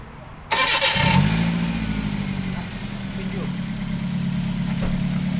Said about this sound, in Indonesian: mesinnya masih bisa dihidupkan